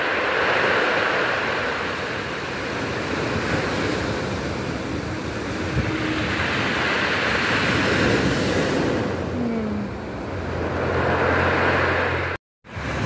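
Waves surge and wash in broad swells at a beach in Miraflores, rising and falling under steady wind noise, with no voices.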